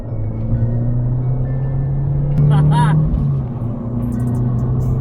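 An Abarth 500/595 Competizione engine drones steadily from inside the cabin in sport mode, a low hum that swells briefly mid-way as the car accelerates.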